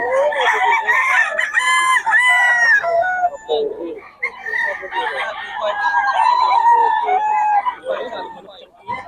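A Sweater gamefowl rooster crows repeatedly, loud and close, with long wavering calls and clucking among other birds on a farm, while someone talks in the background.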